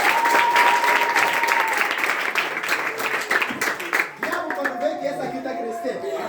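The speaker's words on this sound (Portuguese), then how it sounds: "Aplauda bem forte." A church congregation claps loudly and continuously, a dense wash of applause with cheering voices mixed in, fading slightly toward the end.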